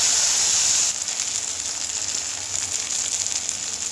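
Food sizzles and spits in a small amount of hot oil in a pan, a steady close hiss that drops slightly in level after the first second and continues with crackling texture.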